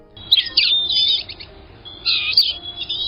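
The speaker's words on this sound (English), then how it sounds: "today's Talkin' Birds featured feathered friend, Polyoptila cerula, the blue-gray gnatcatcher" Blue-gray gnatcatcher giving two bursts of thin, high, wheezy buzzing calls separated by a short pause, close and clear over a quiet background.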